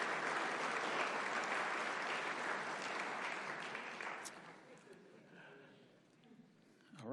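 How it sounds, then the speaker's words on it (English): Applause from the audience at a city council meeting, welcoming special guests: dense, even clapping from a full room that holds steady, then thins and fades toward the end. "Let's give a round of applause for all of our special guests this evening."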